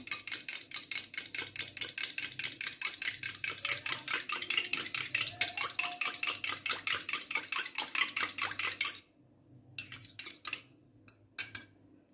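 A spoon stirs a cup of milk seasoned with black pepper over filo pastry, clinking rapidly and steadily against the cup for about nine seconds, then a few sparse taps before stopping.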